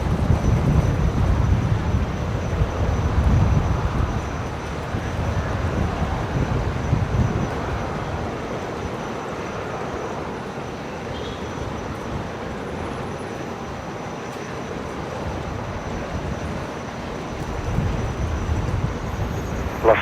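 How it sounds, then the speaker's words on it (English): Aircraft taxiing out at Brisbane Airport, a steady broad engine rumble with low roaring swells near the start and end, continuous and fairly loud throughout with no talking. "Taxiing out"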